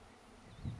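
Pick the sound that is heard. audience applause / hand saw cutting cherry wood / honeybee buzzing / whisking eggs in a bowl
honeybee buzzing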